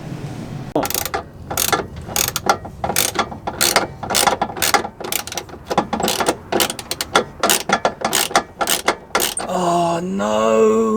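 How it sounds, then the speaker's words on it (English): A ratchet clicks repeatedly while tightening the rear anti-roll bar on a Vauxhall Corsa VXR, sharp close bursts in an uneven working rhythm, then a brief creaking groan at the end. "There's the ratchet there, look."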